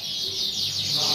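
AF canary chirping continuously in a bird shop, a steady high twittering song that fills the whole short stretch at moderate loudness, close to the listener.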